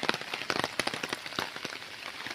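Rain falls steadily on a surface during a walk near a dam, a dense patter of close drops with irregular louder splats and no voices.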